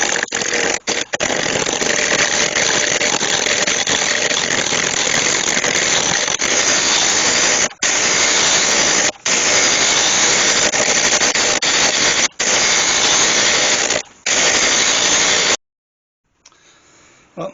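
Wood lathe turning an oak blank down to a cylinder with a spindle roughing gouge, a loud, steady roaring cut broken by a few short pauses before it cuts off near the end, leaving quiet.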